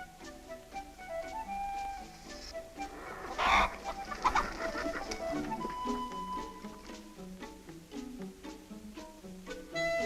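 Danish chickens cluck in a farmyard, with repeated short clucks and bird calls scattered throughout and a louder flurry near the middle, heard over a soft orchestral music bed.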